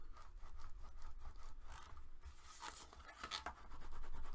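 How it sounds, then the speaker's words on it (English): A tool burnishes glued paper on a handmade mini album. Faint, close, repeated rubbing and scraping strokes sound against a quiet background. "Open it up and burnish."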